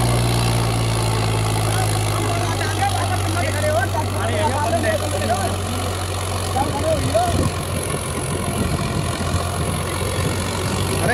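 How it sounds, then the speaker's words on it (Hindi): Massey Ferguson 8055 tractor engine runs in a soft field, a steady low rumble that holds loud throughout, with someone talking over it in the second half. "ट्रैक्टर चला रहे हैं 80-55 बॉस"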